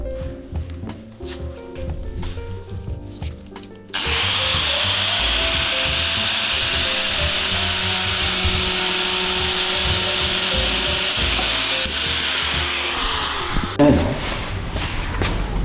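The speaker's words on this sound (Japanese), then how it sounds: "ハンドルの長さを、ざっくり決めまして、サンダー、で切っていきます。" A handheld sander cuts through a wooden handle for a well pump, starting with a loud, continuous, grinding whine after a few seconds of light tapping and handling, then running steadily nearly to the end.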